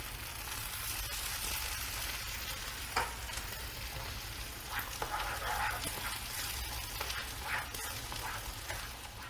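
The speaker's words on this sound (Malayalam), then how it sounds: "ഇതിൻ്റെ പുറത്തേക്ക് നമുക്ക് 2 ടേബിൾ സ്പൂൺ ചെറുതായിട്ട് അരിഞ്ഞ സവാള ഇട്ട് കൊടുക്കാം." Chopped onions fry in a pan for Egyptian koshari sauce, giving a steady close sizzle broken by occasional stirring scrapes, with no talk.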